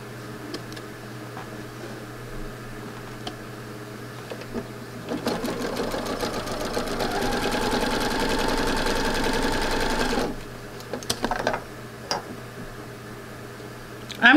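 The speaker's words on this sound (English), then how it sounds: "And now I take these and stitch." Sewing machine stitching pieces of fabric for a quilt: a steady mechanical whir runs for about five seconds after quieter handling noises, then stops, followed by a few light clicks. A faint steady hum sits in the background.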